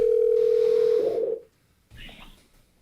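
Telephone call tone on a livestream: a loud steady single-pitch tone sounding for about a second, then breaking up and cutting off, followed by a brief burst of muffled noise.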